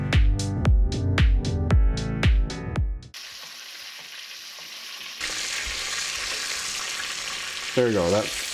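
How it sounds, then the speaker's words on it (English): Butter froths and sizzles in a pan as a stuffed chicken thigh is basted, a steady crackling hiss following some loud musical notes, with a short rising tonal sweep near the end. "once our butter gets nice and frothy, then we're gonna start basting this"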